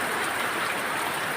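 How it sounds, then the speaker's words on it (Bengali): Rain falls steadily outdoors, a dense even hiss of drops filling the moment at moderate loudness, with no voices. "আরে বৃষ্টি আসছে"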